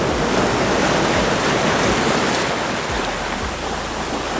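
Ocean waves wash in at sunrise as a continuous, loud hiss of surf, close and steady with slight swells in intensity, heard alone without voices.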